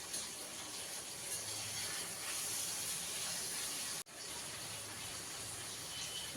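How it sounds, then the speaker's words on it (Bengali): Fish frying in a pan of hot oil gives a steady, loud, close sizzling hiss that cuts out for a moment near the middle and then resumes. "এবার মাছটা ভাজাবো।"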